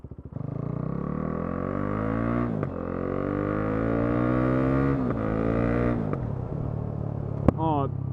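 KTM RC390 single-cylinder motorcycle with a loud aftermarket Black Widow exhaust, engine held at a raw, rasping note and climbing through rising revs with abrupt drops at gear changes and a sharp pop, close and dominant throughout.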